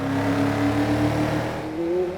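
A Mercedes-Benz AMG GT-S engine in the racing game Forza 6 revs loud and steady, holding a sustained growl that climbs in pitch near the end, with no talking.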